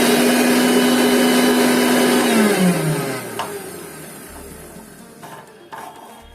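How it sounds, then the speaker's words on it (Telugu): A kitchen mixer grinder whirs loudly and steadily as it grinds two handfuls of hair-pack ingredients with water, then its motor whine drops in pitch as it winds down, leaving a faint rattle. "2 గుప్పలు తీసుకొని మిక్సీ వేస్తున్నా"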